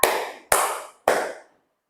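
Three sharp, separate bursts of group handclapping from students in a classroom ice-breaking game, each clap loud and close, spaced about half a second apart with a quick decay and no talking.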